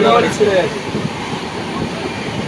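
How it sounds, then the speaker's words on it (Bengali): Train rolling into NJP station: a steady rail rumble and carriage noise heard from inside the coach, moderately loud, with voices talking over it at the start. "এনজিপি ঢুকছে আলোয়ারি ছেড়ে গেছে সৌরভ"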